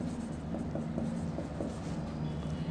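Marker or chalk writing an equation on a board during a class 9 maths lesson, short scratchy strokes over a steady low hum, close and quiet, with no talk.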